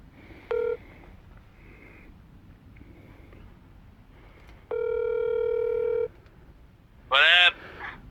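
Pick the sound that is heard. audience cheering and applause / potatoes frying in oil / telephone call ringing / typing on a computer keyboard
telephone call ringing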